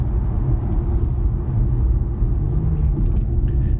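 Low, steady engine rumble from an Infiniti Q60S Sport as the throttle lifts and it downshifts for a corner on a winding road, heard from inside the cabin as a continuous deep drone without speech.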